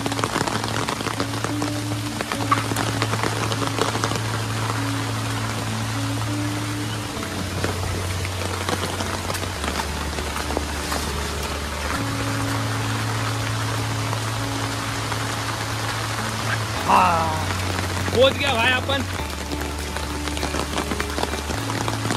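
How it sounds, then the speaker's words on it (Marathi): Heavy monsoon rain pours steadily at a dam near Ambarnath, a dense continuous hiss throughout with a low engine-like hum underneath and a brief spoken phrase over it. "आता एवढा बेकार पाऊस झाला ना"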